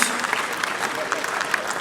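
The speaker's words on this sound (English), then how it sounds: "I'd like us to just acknowledge them with a clap for the great work they do" An audience at a national social safety net coordinating event claps steadily, a dense patter of applause that runs throughout.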